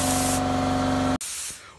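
An Apollo 40 paint spray pump fitted with a very large nozzle hisses in a loud, steady spray with a whining motor tone, then cuts off sharply, leaving a softer hiss of air.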